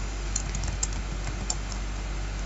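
Steady typing on a computer keyboard entering a ping command in the Windows command prompt, a run of light close keystrokes with a few sharper taps over a low constant hum, no voices.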